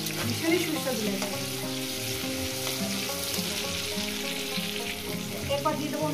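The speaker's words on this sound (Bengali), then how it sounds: "টমেটো দিয়ে তাই আমি 2 মিনিট একটু ভেজে নেব" Tomatoes fry in a pan for a bata fish curry with potatoes, giving a steady, dense sizzle with soft stirring sounds throughout and no talking.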